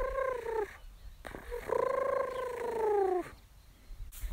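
A person imitates an owl call with smooth, hooting, cooing tones: two sustained calls, the second longer and falling, heard close and alone against quiet background.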